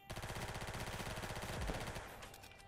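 Rapid automatic gunfire in the Roblox game Arsenal, a long dense burst of evenly spaced shots that stays loud and close, then breaks off and trails into fainter echoes.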